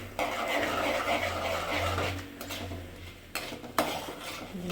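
Mustard seeds and urad dal frying in hot oil in a pan, a steady crackling sizzle with scraping and stirring clinks, a brief sharper clatter near the end, no voices.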